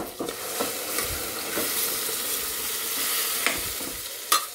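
Mutton sizzles steadily in a pan of browned onions and softened tomatoes for a curry, with a spoon scraping and stirring in occasional clanks, close up with no talk.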